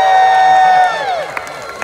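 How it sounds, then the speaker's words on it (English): A crowd cheering and whooping for male performers at a live show, loud and close at first, with a sustained whistle or shout that fades into scattered claps and calls. "Let's see a loud scream for these men."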